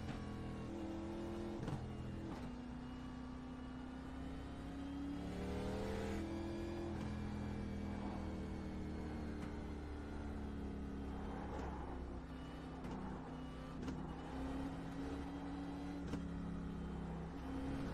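A race car engine in the iRacing sim revs and shifts through the gears while the driver warms the tires, with rising and falling whine and brief dips between shifts. The sound is continuous and moderately loud, with no talk.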